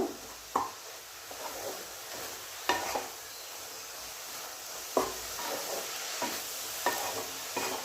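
Ginger and dried chilli paste frying in a pan, a soft continuous sizzle with regular scraping stirs and light spoon knocks against the pan every second or two, no talking.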